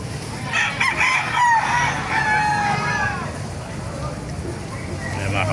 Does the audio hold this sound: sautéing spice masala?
no